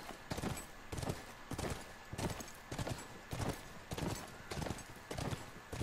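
Hooves of a horse gallop in a steady, rapid rhythm across ground in The Last of Us game, each stride a distinct thudding beat repeating evenly at moderate loudness.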